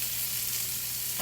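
Ham sizzles loudly and steadily in a hot pan with peppers and onions, a dense close frying hiss that carries through the whole moment without any voices.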